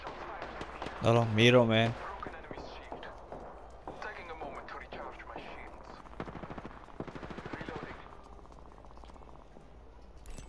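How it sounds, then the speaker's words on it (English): Automatic gunfire in an Apex Legends match bursts loudly for about a second near the start, then gives way to busy game sounds under steady player chatter. "shots fired, and they're hitting me"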